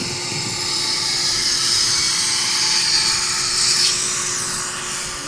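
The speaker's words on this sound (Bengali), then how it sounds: "গ্রাইন্ডিং মেশিন দিয়ে আস্তে আস্তে করে পুরো সাইডটা আমরা কেটে ফেলতেই হবে।" A grinding machine cuts along the sides of a rooftop, producing a continuous high-pitched whine and gritty abrasive hiss that swells and eases slightly, loud and close with no talking.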